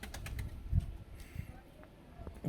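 White pigeons in a loft give soft, low coos in short bursts amid quiet rustling and faint background noise.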